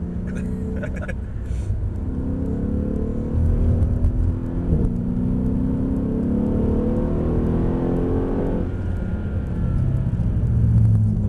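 A Mercedes-Benz E63 AMG Sport on a track at Mercedes-Benz World gives a loud, steady engine rumble that rises as the car accelerates, heard from inside the cabin with people talking over it.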